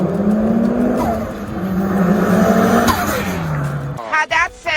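Naturally aspirated engine of a Porsche 718 GTS revving loudly and steadily up close, holding a strong sustained tone before cutting off, followed by a few brief sharp sounds at the end.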